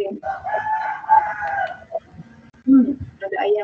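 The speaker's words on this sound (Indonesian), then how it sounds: "Ada ayamnya siapa itu?" A rooster crows loudly nearby in a drawn-out, wavering call, followed by shorter clucking and fowl calls, with brief voices in the background.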